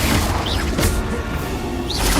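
The Confringo spell in Hogwarts Legacy goes off as a dense, booming magical blast with whooshing swells and crashing impacts, close and loud throughout.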